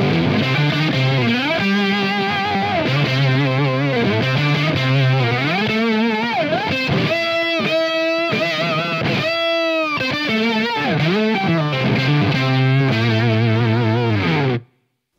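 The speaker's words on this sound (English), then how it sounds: "And you can of course turn on both sides of the pedal, and that is when things actually kind of explode in a very cool way." Electric guitar through an Emma Electronic Okto Nøjs analog octaver pedal with both sides switched on, producing loud, thick, distorted octave-shifted notes with warbling, glitchy pitch swoops, played continuously for about fifteen seconds before cutting off.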